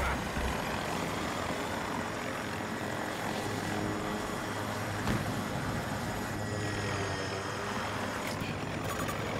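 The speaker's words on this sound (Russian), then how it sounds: "Вертолет отмечен! 70 метров от вас!" Helicopter in Battlefield 2042 flying close and loud, a steady throbbing rotor drone with engine whine holding throughout amid game noise, no talk.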